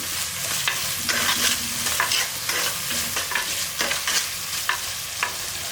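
Tomatoes and onions sautéing for a fish curry crackle continuously in the pan while a spatula scrapes and clacks in a busy, uneven rhythm up close, with no talking.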